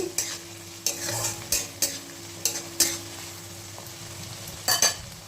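Broken dried red chillies drop into hot oil with an onion and garlic base, giving a soft background sizzle punctuated by a series of sharp spatula strokes and scrapes against the pan, close and evenly spaced.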